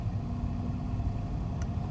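A Porsche 911 Carrera GTS 991.1 with its sports exhaust switched on, its engine giving a steady low rumble throughout, close and constant, with no talking.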